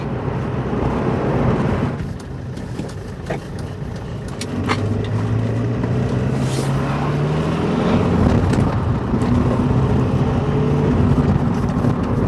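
A Rover L-series turbo diesel car cruising at 50 mph with a power problem, heard from inside as a loud steady engine drone and road rumble, with pitch rising slightly midway.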